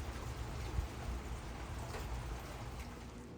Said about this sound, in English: And it's raining. Sunshine rain.